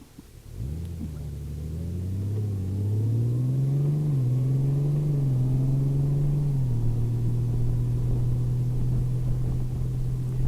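A 2018 Honda Goldwing DCT motorcycle rides along a road, its smooth engine rising in pitch as it accelerates, then settling into a steady, even drone with wind rush and no shifting breaks.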